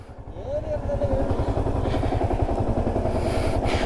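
A motorcycle engine rumbles steadily and close while climbing a rocky path on a bike ride near Ooty, with someone talking over it.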